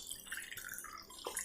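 Water trickles quietly and drips into a bowl of semolina batter flavored with cardamom powder. The sound is soft and close, with no voices over it.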